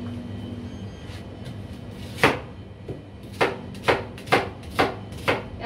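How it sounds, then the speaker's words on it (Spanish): A knife chops an onion finely on a board, with soft early taps followed by a run of six or seven sharp, evenly spaced cuts close by, with a faint hum underneath. "Y ahora lo picamos la cebolla pequeñita."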